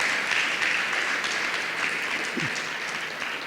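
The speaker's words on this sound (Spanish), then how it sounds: "Denle un aplauso al Señor por eso." A church congregation breaks into sustained applause, a dense, even wash of many hands clapping that holds steady for several seconds with a brief murmur of voice partway through.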